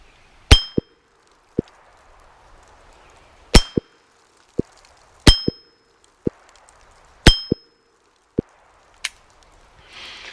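Sharp gunshots with bullets striking an AR500 steel target, each impact giving a bright metallic ring, spaced irregularly with quiet between.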